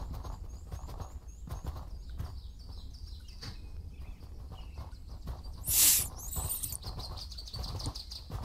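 Horse hooves clip-clopping at a steady riding pace in Mortal Online 2, with chirping birds around and a short bright hiss midway.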